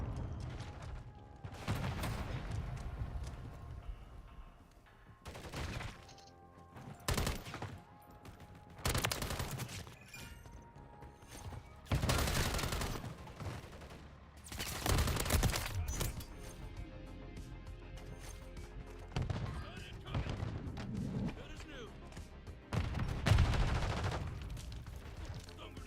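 Rapid bursts of AMR9 fire in a Call of Duty match, loud cracks in repeated clusters with short gaps, some fuller volleys overlapping, over a steady game background.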